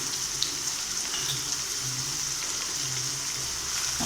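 Onions sautéing with salt and a little turmeric in a pan for tomato rice give off a steady, even sizzle and hiss that carries on without a break, with no voices over it.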